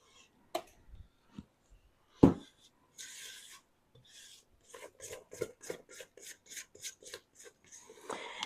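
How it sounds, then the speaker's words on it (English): A spatula scraping a mixing bowl of chocolate zucchini cake batter, heard as a run of close, short rasping strokes in quick rhythm after a few scattered knocks. "scrape the bowl. Make sure everything's incorporated."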